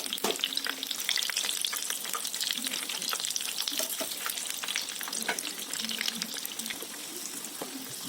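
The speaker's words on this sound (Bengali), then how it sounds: "দেখুন, এক পিঠ ভাজা হয়ে গেলে অপর পিঠটা কিন্তু উল্টে দিচ্ছি" Stuffed green chilli chops sizzling and crackling in hot oil, a continuous close bubbling fry with scattered pops and occasional turning or stirring sounds.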